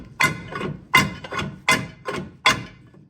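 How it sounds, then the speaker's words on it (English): A brake drum used as a slide hammer on a Ford Pinto rear axle gives five heavy metallic thunks at a steady pace, close and loud, each with a brief ringing decay. "we're gonna try using the drum as a slide hammer"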